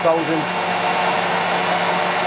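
A Wolf tool post grinder motor, rated at 8,000 rpm and belt-driven to a wheel spinning around 4,000, runs steadily and close up. A loud, even whir sounds alone throughout with a brief voice at the start.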